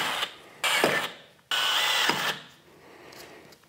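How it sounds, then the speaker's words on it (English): A power drill with a pilot bit whirs in two short bursts close by, the motor revving up and winding down as it bores through a Mazda BT-50 body panel for a snorkel install. "I'm going to go through with the pilot bit now."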